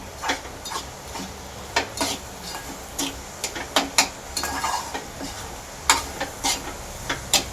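A spoon stirring a thick coconut mixture loosened with milk in a pot for coconut vadi, producing repeated light taps and scrapes against the vessel at a steady, unhurried pace, moderately close.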